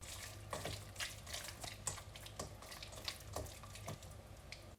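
Chicken pieces being mixed by hand with potato starch and flour make a soft, wet, rhythmic squishing and slapping, fairly quiet and close, with no voices.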